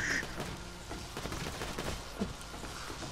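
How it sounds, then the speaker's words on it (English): Borderlands 2 gunfire, a dense rattle of rapid shots and distant pops running throughout under game background noise, fairly faint. "Someone's shooting at us too, apparently."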